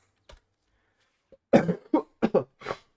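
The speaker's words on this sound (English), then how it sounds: "I was holding back a cough there that entire time." A few sharp coughs in quick succession, close by, after a faint throat noise; short pauses separate the bursts, with no talking.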